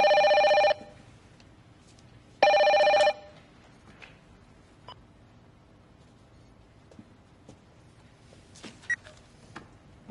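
A telephone rings with an incoming call at a police investigation headquarters, two short electronic ring bursts separated by a pause, followed by faint clicks and room noise.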